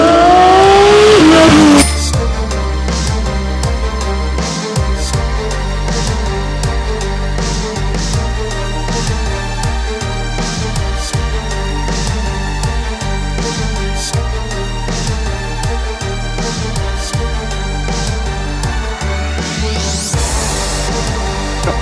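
A stock Porsche 992 GT3 RS flat-six runs loud and continuous, with repeated rising and falling revs and gear changes throughout, ending in a sharp climbing rev near the close, with no talking.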